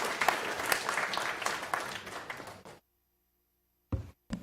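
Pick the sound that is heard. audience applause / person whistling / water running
audience applause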